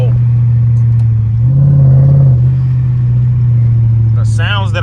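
A supercharged Chrysler 300C engine drones in a low steady tone from inside the car, swelling briefly as it revs and then settling back, with someone talking over it.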